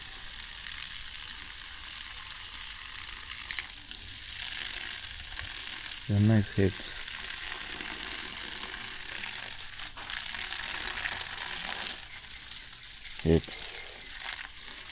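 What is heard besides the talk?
watering garden herbs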